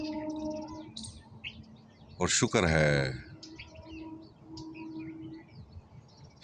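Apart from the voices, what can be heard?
birds chirping and singing outdoors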